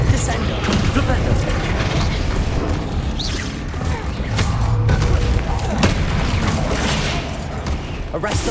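Explosive spells like Incendio, Bombarda and Confringo cast in combat in Hogwarts Legacy, producing a dense run of loud booms, crackling bursts and crashing impacts with magical whooshes, while incantations are spoken throughout.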